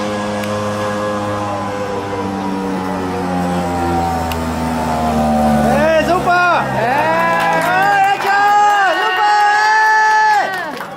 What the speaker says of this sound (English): witness a Vespa scooter boldly taking on a steep hill climb